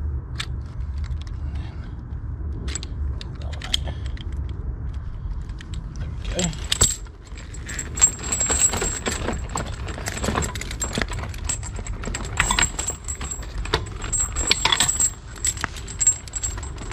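A metal caravan chain rattles and clinks as it is handled and fastened, with sharp jangling bursts that grow busier in the second half, under occasional quiet talk.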